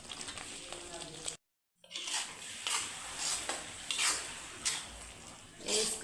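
Beans and potatoes fry in hot oil in a pan and are stirred repeatedly. A steady sizzle runs throughout, with louder scraping stirs that swell every second or so, and the sound cuts out briefly near the start.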